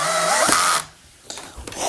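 A handheld power drill whirs briefly while building a moving sculpture, a loud close burst that cuts off, followed by quieter clicks and handling noise.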